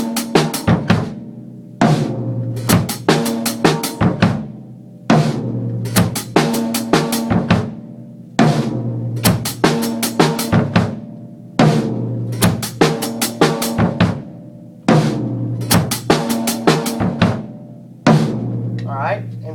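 A drum groove played on a kit with dual hits landing together on the high tom and floor tom, repeating in tight rhythmic phrases with sharp cymbal and snare strikes, close and loud, no talking.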